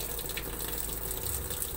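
Water streams steadily into a top-loading washing machine from its inlet hose, a close, even rushing flow with no talk over it.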